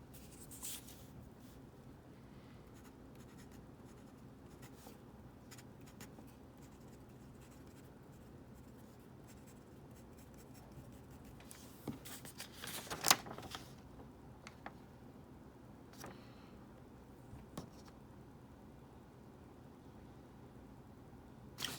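Lamy fountain pen nibs scratching across paper in quick sample strokes, a faint, steady scratchy hiss with brief louder scrapes and taps, close and quiet with no talk.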